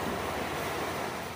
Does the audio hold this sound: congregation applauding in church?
no